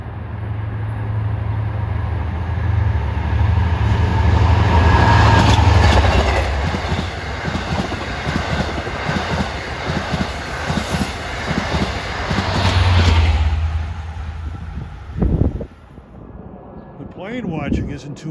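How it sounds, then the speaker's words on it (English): Long Island Rail Road train 664, running from Penn Station to Port Jefferson on the Main Line, rolls past with a loud rumbling roar and rhythmic clickety-clack of wheels over rail joints, building up and then easing off as it goes by. "here comes train 664. Penn Station to Port Jefferson"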